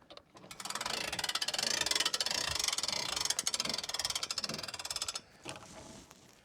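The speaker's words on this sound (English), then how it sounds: "So I did notice that if we crank it up a little bit, which we'll do right now" Hand crank raising the roof lift on a Rockwood Freedom pop-up camper, a dense rapid ratcheting clatter that runs steadily for about five seconds up close, then stops abruptly.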